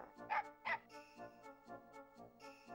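Dog barking in the N64 game Mega Man Legends, a quick series of small yipping barks, two louder ones followed by several softer rhythmic yaps, alone without talk.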